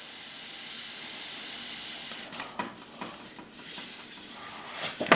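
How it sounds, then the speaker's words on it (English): A steady, close airbrush hiss of compressed air sprays continuously, then sputters and pulses unevenly in the last few seconds. "Right now I'm just spraying air."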